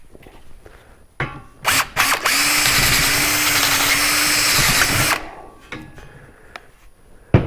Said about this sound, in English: I'll just ream the hole a little bit more.